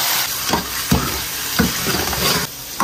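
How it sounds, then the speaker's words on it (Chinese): Scallions and ginger sizzle in a generous pour of oil in a wok, an early step in making spicy braised pork tripe and intestines; a steady, close frying hiss is broken by several louder bursts as the aromatics are stirred. "锅中多多加油，葱姜爆香"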